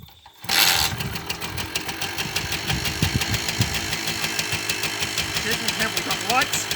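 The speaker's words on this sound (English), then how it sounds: "Starting up the machine, fuel on, kickstands up." A motorbike engine fires up after a brief quiet moment and settles into a steady, loud, close idle with a rhythmic knocking throb.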